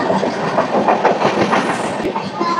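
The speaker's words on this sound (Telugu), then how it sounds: "వెనకాల ట్రైన్ ఉంది, అది చూసండి." A Samata Superfast Express train from Visakhapatnam toward Hazrat Nizamuddin rumbles past nearby, a loud and steady wash of wheel clatter and rail noise with no pauses.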